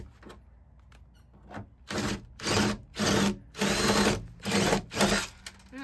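A power drill with a fresh bit drills into a Ram ProMaster City van, whirring in five or six loud bursts of roughly half a second each, starting and stopping in an uneven rhythm, close by.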